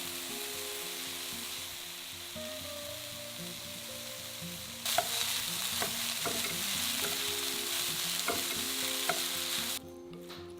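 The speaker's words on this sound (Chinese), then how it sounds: "等这个3样炒得差不多，炒香之后呢，我们最后放这个笋丁" Vegetable filling for steamed buns is stir-fried in a wok with diced bamboo shoots added: a soft sizzle over a low hum, then louder, brighter frying with repeated spatula scrapes and clacks, ending in a brief quieter moment.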